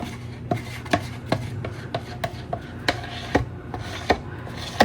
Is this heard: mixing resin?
yes